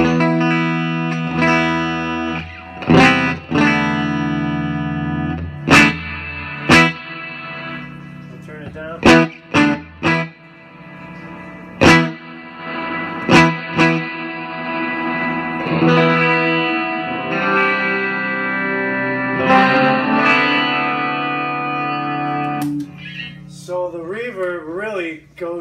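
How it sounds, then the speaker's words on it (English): Electric guitar notes and chords ring out through a digital reverb pedal's washy, swampy reverb, picked one after another with long shimmering tails and occasional warbling. "It's a reverb, digital reverb pedal."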